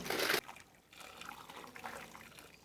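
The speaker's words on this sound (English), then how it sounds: "Got residual liquid off the top of the lid here. And into the ribs we go." Leftover braising liquid from a pot lid is poured onto beef ribs, a brief close splash followed by a softer trickle and dribble.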